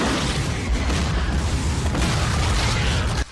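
A loud, sustained rumbling blast from an explosion in Starship Troopers 3, dense and roaring throughout before cutting off abruptly.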